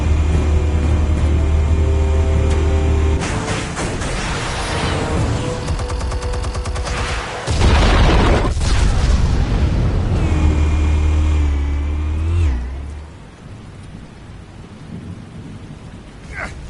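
Heavy booming explosions in a Batman video game, a sustained deep rumble with crackling bursts that swells, briefly cuts out around the middle, returns loud, then drops away to a quieter tail.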